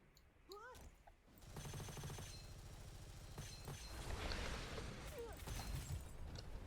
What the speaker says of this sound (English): I'm going to shoot it with some Star Devourer